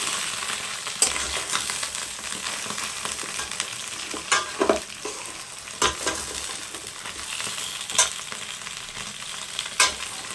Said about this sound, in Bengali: একটু হালকা করে ভেজে নেবো চিচিঙ্গাটাকে